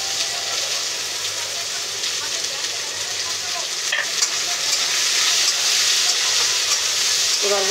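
Chopped onions frying in hot oil for mutton, a steady close sizzle with light stirring scrapes throughout, no talking.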